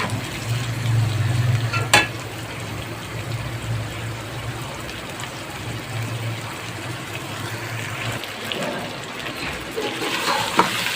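Chicken korma frying and being stirred in a pan, a steady soft sizzle with a few sharp scraping clicks of the spoon near the start and end, close and fairly quiet.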